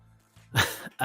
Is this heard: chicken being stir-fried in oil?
no